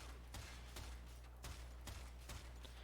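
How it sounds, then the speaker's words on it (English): Prisma Grinlok lever-action rifle firing in the video game Warframe, five sharp shots spaced roughly half a second apart over a steady low hum, with no talk. "this weapon is a lever action rifle. It's not super fast, and I'm firing it as fast as I can"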